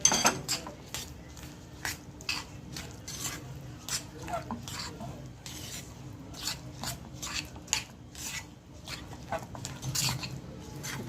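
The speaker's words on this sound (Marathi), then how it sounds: "आता त्याच्यात तीळ टाकूया हे आणि असं फटाफट आपल्याला मिक्स करायचं आहे" Sesame seeds mixed fast into hot chikki syrup in a pan with the flame off, giving repeated scraping and clacking strokes of a spoon against metal at close range, steady and rhythmic throughout.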